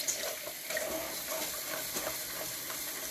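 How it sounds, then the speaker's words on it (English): Warm water runs from a tap into a bowl with a little dish soap in it, making a steady, soft splashing rush that continues throughout, fairly faint and with no talking. "You're going to turn on the warm water."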